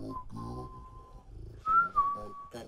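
A whistle tone from a Ciat-Lonbarde synth sounds as a thin sustained pitch that wavers and steps upward, played twice amid low buzzing and faint background voice.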